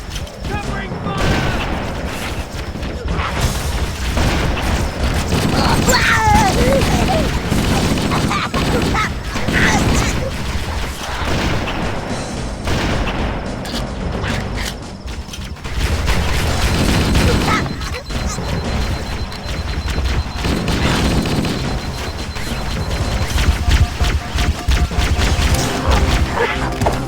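Gunfire from the video game Halo: Combat Evolved: dense, continuous rattling bursts and booms of a battle, loud and unbroken throughout, mixed with in-game voices and action sounds.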